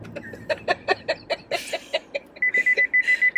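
A car's proximity sensor beeps at grass: a run of evenly spaced short beeps, then a quicker series of longer, steady tones, all close and clear.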